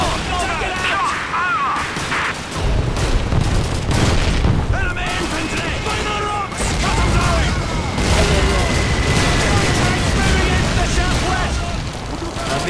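Artillery bombardment and gunfire in the video game Call of Duty 2: loud, dense booms and rapid shots crowd together in a chaotic battle din, with excited voices shouting over the barrage.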